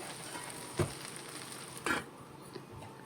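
Okra and onion frying in a covered pan give off a soft, steady sizzle with a couple of brief louder clatters, close and alone.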